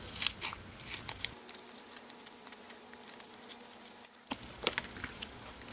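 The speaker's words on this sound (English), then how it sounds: "and then cut it into thin strips." Scissors snipping acetate into thin strips for a vinyl shaker card, a quick run of crisp close cuts at the start and again near the end with a quieter pause between.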